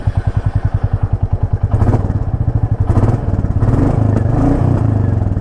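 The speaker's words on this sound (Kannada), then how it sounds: "ಎಕ್ಸಾಸ್ಟ್ನ ಸೌಂಡು" A 2024 Royal Enfield Classic 350 single-cylinder motorcycle idles with an evenly spaced, loud thumping exhaust beat, then revs up into a denser, rising engine roar, close to the microphone with no speech.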